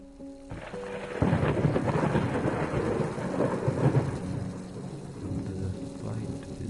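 Rolling thunder swells over a steady downpour of rain in the horror game Layers of Fear, loud and sustained after a brief tonal sound at the start, with a faint voice.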